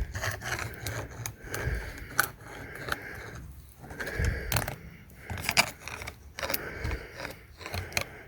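A small tree trunk is rubbed by hand to imitate a buck scraping velvet-covered antler tines, producing repeated dry scraping and rasping strokes in irregular bursts, close and fairly loud.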